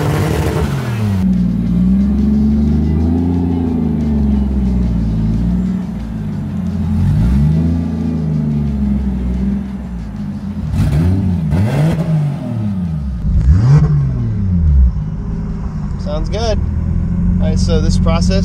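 A Toyota Supra engine converted to turbocharging with an eBay turbo drones and revs under boost, pitch rising and falling in waves, with a few sharp higher bursts near the end; speech mixes in.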